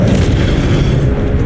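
A sustained, heavy roaring whoosh of the Incendio fire spell in Hogwarts Legacy, loud and close, holding a dense rumbling burst without letup.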